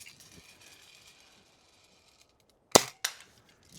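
Two sharp gunshots fired at a can at an outdoor shooting spot, the first loud crack followed a quarter second later by a second, after a stretch of faint background hiss.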